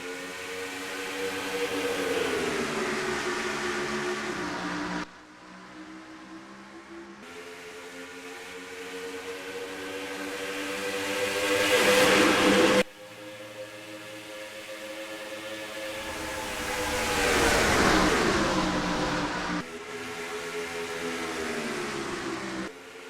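At the green-flag start of a NASCAR Racing 2003 video game race at Charlotte Motor Speedway, stock car engines drone in layered tones. Their pitch climbs and swells in long waves, broken by abrupt cuts in the sound.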